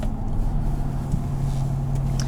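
A deep, steady exhaust rumble from an idling 2017 GMC Sierra 1500 SLT pickup truck, low and growly, with no talking.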